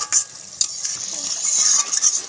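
Katla fish cooking in curry gravy in a pan, a steady bright sizzle with soft stirring scrapes and a few utensil clinks close by, no voices.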